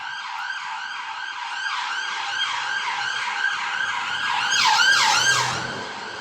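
A wailing ambulance siren sweeps up and down repeatedly, growing louder as it nears and then briefly shifting pitch as it passes.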